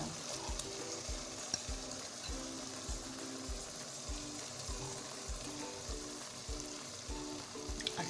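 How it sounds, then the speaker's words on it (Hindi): Beef tikka masala frying in a pan over medium to high flame, a steady sizzle broken by regular scraping strokes of a spoon stirring the masala, fairly faint and close. "अच्छे से मिक्स करेंगे और मीडियम टू हाई फ्लेम पे हम इसको भूनेंगे 1 से 2 मिनट।"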